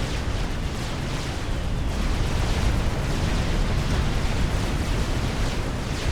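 Torpedo bombers striking an Atlantis in Supreme Commander: Forged Alliance, a loud, continuous rumble of overlapping blasts that stays steady and unbroken throughout.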